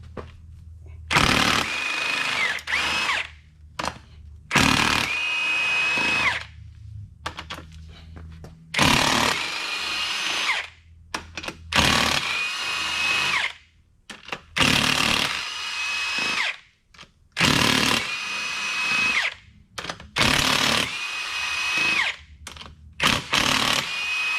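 Repeated bursts from a power tool remove E-star bolts during teardown of a Mazda ND Miata Skyactiv engine, each loud, close whir lasting a second or two and separated by short pauses.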